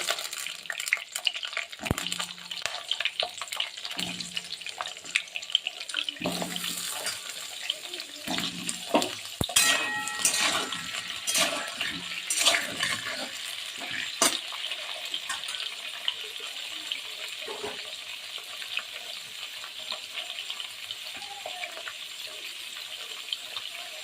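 Potatoes hit hot oil seasoned with cumin seeds and two bay leaves, giving a watery sizzle and hiss with intermittent stirring clatter, close and moderately loud, without speech.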